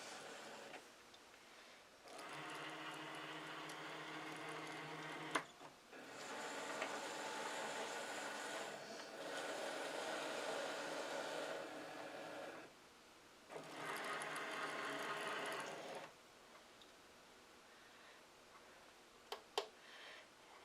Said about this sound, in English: Now it's going to score my card base.